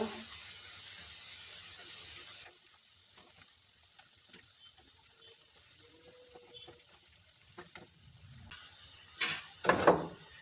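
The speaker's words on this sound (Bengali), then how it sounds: "উল্টে পাল্টে লাল লাল করে ভেজে নেব" Shell-shaped singara fry in hot oil in a wok with a steady, soft sizzle, then a louder bubbling and a few clinks of stirring toward the end.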